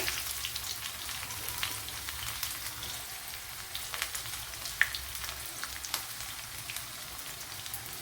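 Small shallots sizzle with mustard seeds in coconut oil for a Kerala-style jackfruit dish, a steady soft crackle and hiss with scattered sharper pops, close and unaccompanied by talk.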